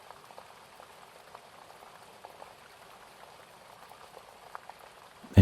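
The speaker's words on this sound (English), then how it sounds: "with the sounds of the rain and that thunderstorm" Rain during a thunderstorm falls as a soft, patter of scattered drops at low level, ending with a sudden loud thump.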